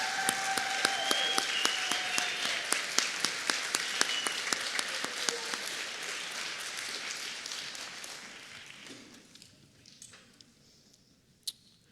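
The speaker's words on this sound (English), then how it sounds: "Let's give them a round of applause and thank them for what they've done for this ensemble." Applause from a crowd, fairly distant, steady at first and then thinning out to a few scattered claps before stopping.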